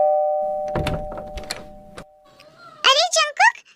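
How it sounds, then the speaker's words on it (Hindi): Faint bumps and clunks, then a short electronic doorbell chime ringing a few rising tones near the end. "फिर जंकुक डोरबेल बजाता है।"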